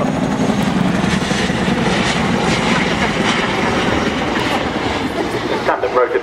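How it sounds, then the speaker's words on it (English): A Boeing CH-47 Chinook tandem-rotor helicopter manoeuvring at the Farnborough International Airshow 2010, its loud, continuous rotor and engine roar filling the air steadily throughout. "there's a demonstration of the manoeuvrability of the Chinook as it comes back around towards the landing position once more."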